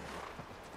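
Horse hooves clop briefly in The Last of Us Part 1, a short, soft patter heard under a dense game ambience with no speech.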